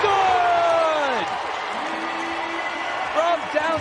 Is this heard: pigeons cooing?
no